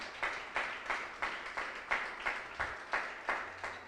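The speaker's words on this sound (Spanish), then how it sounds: "Se puede dar un aplauso al Señor en esta hora." Congregation members in a church give a round of applause to the Lord, slowish rhythmic clapping, near and steady with regular beats throughout, no talk over it.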